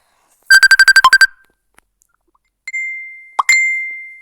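A phone's ringtone for an incoming call: a quick burst of about eight bright beeps, a pause, then longer sustained electronic tones, loud and close with no talking.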